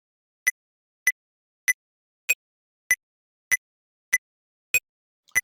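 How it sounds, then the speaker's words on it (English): The metronome in FL Studio Mobile set to 98 BPM: nine sharp, evenly spaced clicks with the accented beat sounding slightly different, crisp and isolated against silence. "So that sound you're hearing in the background is called metronome."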